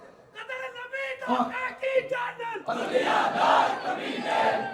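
A crowd at a religious sermon roars out a loud chant in unison, swelling voices rising after a preacher's raised call, near and energetic.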